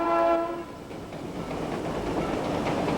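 Heritage passenger train on a Vermont railroad between Bellows Falls and Chester, opening with a steady horn blast that gives way to continuous rolling wheel rumble and clatter, loud and close throughout.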